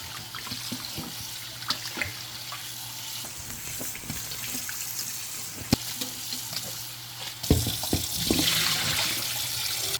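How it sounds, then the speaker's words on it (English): Ham rinsed under a running kitchen tap, water splashing steadily over the meat into the sink with occasional handling knocks, close and fairly loud, a louder gush near the end. "I'm gonna wash my ham"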